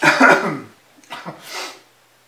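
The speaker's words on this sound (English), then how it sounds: "I had to sneeze a bit more." A single loud burst erupts close by, followed by a couple of softer breathy exhalations trailing off into quiet.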